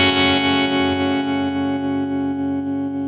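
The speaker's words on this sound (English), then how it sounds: "spring reverb, real spring reverb." Electric guitar through spring reverb on a Fender Tone Master Pro digital modeler set to a Vibro blues-style amp, a loud sustained chord ringing out with a lush, washy reverberant tail that slowly decays.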